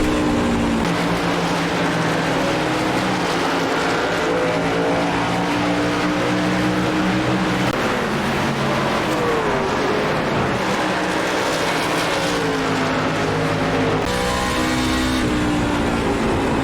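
A Ford F150 race truck roars around Bristol in iRacing, its engine loud and continuous, rising and falling with throttle through the laps, with faint tire noise and no voices.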